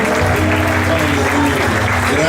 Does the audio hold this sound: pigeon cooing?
no